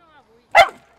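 A reactive dog gives one sharp, loud bark, close and brief, after some faint voices.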